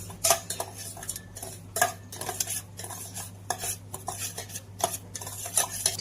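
Semolina being dry-roasted in a pan with a spoon, steady scraping and clinking strokes of metal against the pan in an uneven rhythm, close and clear, with a low hum underneath.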